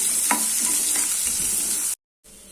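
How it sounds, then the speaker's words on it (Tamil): Sliced onions sauté in a pan, giving a steady close sizzle with a few soft stirring scrapes, and the sound cuts out briefly near the end. "இது கொஞ்சம் லைட்டாக வதங்கட்டும்"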